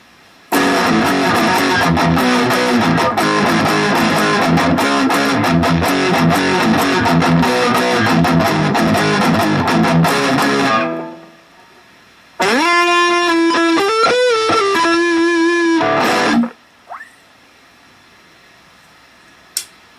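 Heavily distorted electric guitar with a warmer neck-pickup tone plays busy runs, pauses briefly, then strums a few sustained chords that stop abruptly, on an AIO Wolf WLP-750T left-handed guitar.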